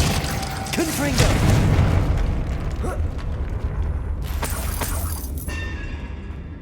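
The Confringo explosive spell is cast in the Hogwarts Legacy video game, with loud booming blasts and shattering crashes layered with rumbling game effects, dense and continuous, and a voice calling out in the middle.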